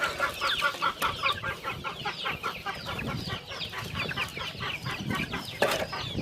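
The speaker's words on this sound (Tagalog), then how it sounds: "Yan yung mga manok kong maliliit, tsaka yung inahin." Young chicks and a mother hen cluck steadily in a rapid, busy chorus close to the recorder, with no voices.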